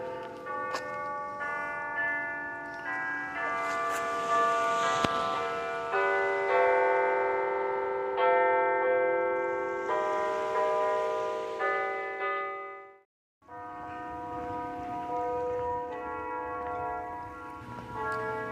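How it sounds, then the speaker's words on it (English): The Wrigley Chimes ring from the tower above Avalon on Catalina Island at Easter sunrise, sustained bell tones overlapping in a melody, resonant and carrying, with a brief silent break before the chiming resumes. "she's playing the Wrigley Chimes up at the Wrigley Chimes Tower, awakening Avalon"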